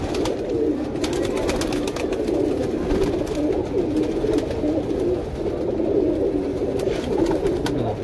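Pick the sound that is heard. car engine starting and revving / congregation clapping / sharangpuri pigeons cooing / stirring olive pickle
sharangpuri pigeons cooing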